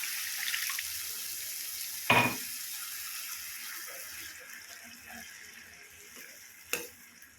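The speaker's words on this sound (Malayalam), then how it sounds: "ഇനി ഇതിലേക്ക് ഗ്രേവിക്ക് വേണ്ട വെള്ളം ഒഴിച്ച് കൊടുക്കാം." Water is poured into a hot pan of spiced pumpkin curry to make gravy. A sudden sharp sizzling splash rises over the quiet bubbling, then settles to a softer simmer, with a second brief burst near the end.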